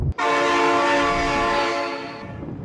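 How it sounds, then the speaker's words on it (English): A train horn blares long and loud right up close, a sustained chord that holds for about two seconds before fading as the train rolls on past. "Oh my god, train!"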